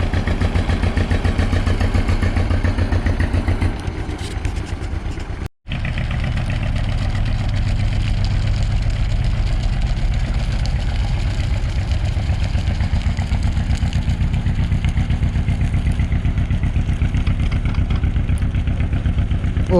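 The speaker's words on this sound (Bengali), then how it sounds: "এই নৌকাটা এই পাড়ের থেকে ওই পাড়ে যায় কুড়ি মিনিট অন্তর অন্তর" Small engine of a river ferry boat crossing between banks in the Sundarban, a steady, close, droning putter that runs continuously, dropping out for an instant before resuming.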